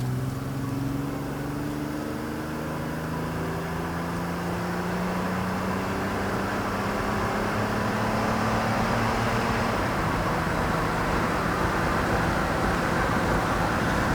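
A 1988 Pontiac Fiero accelerating on the road, heard from inside as a steady roar of engine and tyre noise with low engine tones rising as it speeds up, no talking.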